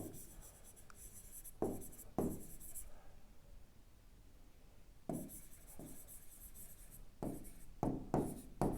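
Pen writing an answer on paper during a trigonometry lesson, with brisk scratchy strokes coming in bursts separated by quiet pauses, close and fairly soft.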